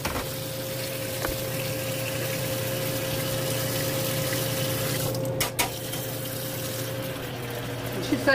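Cold water is poured into a Nutramilk machine, a steady, fairly quiet rush of liquid with a constant hum underneath, a few clunks near the end.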